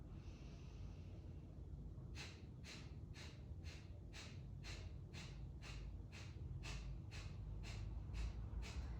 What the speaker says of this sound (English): Kapalabhati breathing, inhale.